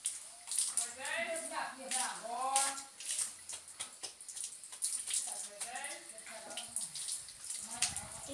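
Water runs and splashes while a dog is rinsed during its bath, a steady close spray under a person talking throughout.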